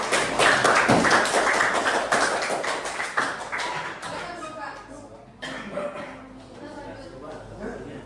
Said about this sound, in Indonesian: bisa beri aplaus dulu buat Bapak